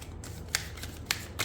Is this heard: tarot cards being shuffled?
yes